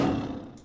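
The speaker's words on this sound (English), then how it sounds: "Is it just going to be roars?" Disney's Scar giving a lion roar: a single short, loud, growling burst that fades quickly.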